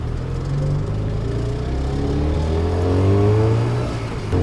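A tuk-tuk (bajaj) engine drones steadily nearby as it pulls away, its low rumble rising and falling with throttle through a city street in Chiang Mai.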